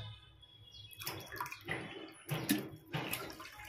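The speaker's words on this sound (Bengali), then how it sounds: "2 কাপ চিনির জন্য আমি 4 কাপ জল দেব।" Water for sugar syrup pours into a pot from a cup in several separate splashing gushes, each a short burst of running, sloshing water, moderately close.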